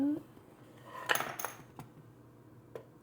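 Small spoons rattle and clink inside a little spoon box, with a cluster of metallic jangles in the middle and a couple of isolated taps, fairly quiet and close.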